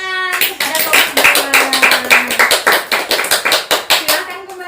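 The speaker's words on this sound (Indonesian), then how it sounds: "beri tepuk tangan kepada kelompok" A classroom claps for a student group: a quick run of sharp, rhythmic handclaps, loud and close, with a voice briefly audible at the start.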